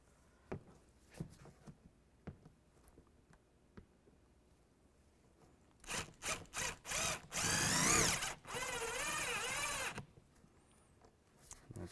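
Power drill driving screws into a mud flap on a 2005-2010 Chevrolet Cobalt, with light taps and clicks before a series of short whirring bursts, then two longer loud drill runs, close by.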